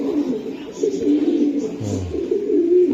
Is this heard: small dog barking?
no